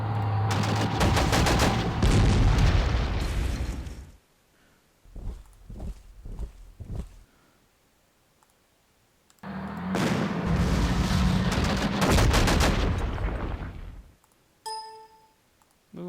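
SMG infantry gunfire from the Panzer Corps wargame rattles out in two long, loud, sustained bursts separated by a quieter stretch of a few clattering steps.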